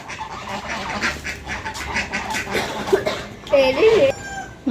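Ducks quack in short nasal bursts near the end, mixed with rooster-like fowl calls and people talking in the background of a busy outdoor yard.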